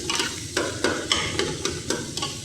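Onions frying in a pan for a fish curry, a spoon stirring and scraping through them in a steady rhythm of about eight sharp strokes over a constant close sizzle, with no talking.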